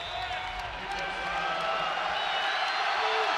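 A basketball arena crowd in Laramie roars steadily during a tight Utah State versus Wyoming men's college game, fans on their feet with a dense, sustained wash of cheering and noise that swells slightly toward the end.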